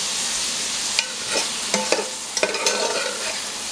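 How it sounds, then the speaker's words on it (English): Butter and oil sizzling loudly in a large roaster pan, deglazing the bottom for a shrimp and sausage Creole, a steady hiss broken by several scraping stirs of a utensil. "when I put the butter in there with that oil, it's kind of deglazing the bottom of my roaster"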